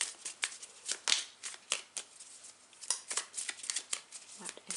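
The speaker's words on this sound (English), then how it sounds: "I'm just going to shuffle again" Tarot cards riffled and shuffled by hand in a run of crisp, papery bursts with short pauses between, close and fairly quiet, with no talk.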